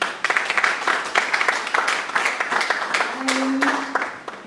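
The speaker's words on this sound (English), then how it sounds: "A round of applause once again." Attendees at a tech fellowship graduation ceremony clap in a moderate round of applause, with irregular bursts of claps rising and falling over a few seconds and a brief voice sounding near the end.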